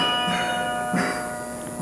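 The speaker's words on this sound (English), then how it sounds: "Well, these are the little bells on this side." A small bell tuned to a high C rings with a bright, high, sustained tone, struck a couple of times and left to hum, close by.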